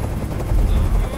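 Helicopter rotor noise in the Detroit: Become Human video game, a steady low thumping drone that fills the scene loudly, with a voice talking over it.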